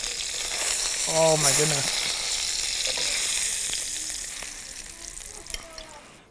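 Meat sizzles and fries steadily in a hot frying pan, a loud continuous hiss with crackling pops, while a person briefly exclaims over it.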